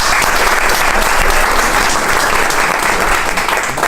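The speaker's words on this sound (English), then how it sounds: "Big round of applause for Synth." An audience at the BLOCKCHANCE blockchain conference in Hamburg applauds as a keynote speaker takes the stage, a dense, steady wash of clapping from many hands that holds at full level without a break.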